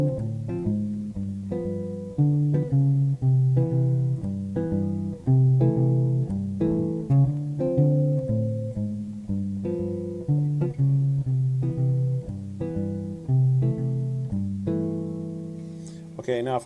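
Jazz guitar played finger style, working a leading tone up into D: a steady, old-timey walking pattern of plucked bass notes and chord stabs, moderately loud and close, alone for most of the passage with a faint sound near the end.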